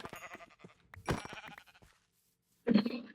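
Minecraft sheep bleat in a game, several quavering bleats early on, then a loud, close bleat near the end, with no speech.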